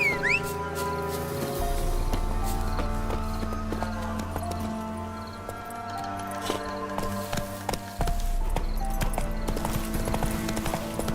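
Hooves clip-clop at an even walking pace from a horse in The Witcher 3, over sustained game music and ambient tones, moderately loud and close.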